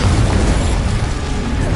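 Confringo spell explosions in Hogwarts Legacy's magical combat: a dense, loud, continuous rumble of low booms and bursts with a mechanical crackle running through, no clear breaks between blasts.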